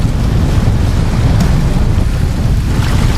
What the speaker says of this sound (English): There's the wind, the waves,